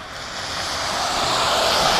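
A bicycle ploughs through a deep puddle of cold water on a wet, snowy city night, a steady broadband wash and hiss that swells gradually louder over a couple of seconds, with no voices.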